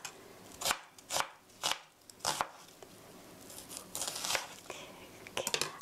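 A knife cuts vegetables into thin strips on a cutting board, a handful of separate crisp chops followed by a quicker cluster of softer cuts and rustles, close and fairly quiet.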